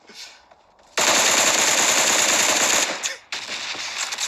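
Dense, rapid automatic gunfire from the mobile game PUBG Mobile, loud and continuous for about two seconds, then a brief pause before more shooting resumes.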